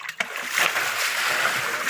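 Water sloshing and splashing steadily as a stream pool is scooped out by hand to catch fish and crabs, with a brief knock near the start.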